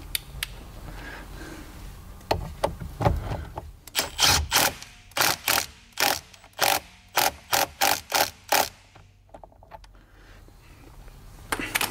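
A ratchet snugs down the steering wheel bolt on a Porsche 997.2 GT3. A few handling knocks come first, then about ten short, sharp bursts of ratchet clicks land in a steady rhythm, loud and close.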